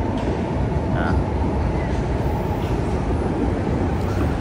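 A train moving through a neighborhood in the Philippines, a steady low rumble that carries through the whole stretch. It stays fairly loud and continuous, with ambient street noise mixed in.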